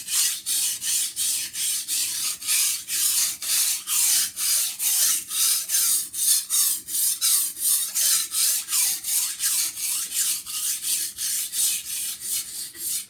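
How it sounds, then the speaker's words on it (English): A Santoku kitchen knife is sharpened freehand on a Nanohone 200 grit whetstone, giving a steady series of about thirty gritty rasping strokes in an even rhythm, close and alone with no talk. "And I'm going to sharpen starting at this front of this knife."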